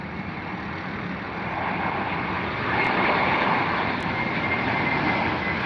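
A British Airways airliner at London Heathrow, its jet engines a broad steady roar that swells slightly as it passes, heard from a distance with no voices.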